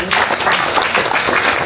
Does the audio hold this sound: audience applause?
yes